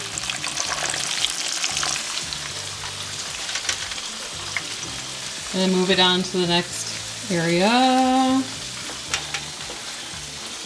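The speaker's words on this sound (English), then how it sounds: "While we get on with frying the rest of our onions." Onions sizzling and crackling steadily in a hot pan, with a brief spoken remark and some tonal music rising over the frying midway.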